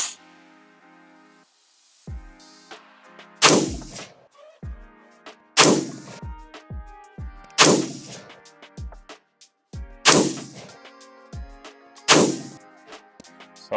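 A White Label Armory AR-15 rifle fires six sharp, loud shots spaced a couple of seconds apart outdoors on a range, each crack ringing out and decaying over a steady background hum.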